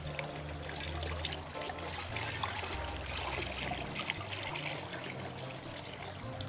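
Steady pouring and trickling of vodka into a large batch of fruit punch, continuous and fairly close, with a low hum underneath and no talking.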